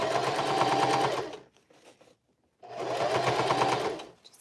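A sewing machine runs at a steady fast clip stitching a bucket hat, a dense, loud mechanical whir that stops for about a second, then resumes at the same pace.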